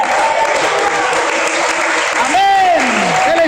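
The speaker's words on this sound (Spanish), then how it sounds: "Ese aplauso a la presencia del Señor" Congregation applause fills a church service, a dense steady wash of many hands clapping loudly throughout, with a brief rising and falling tone near the end.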